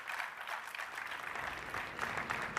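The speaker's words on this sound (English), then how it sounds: "And you can continue to applaud" A climate summit audience claps in a soft, sustained patter, heard at a distance and fairly faint, with a steady, even texture.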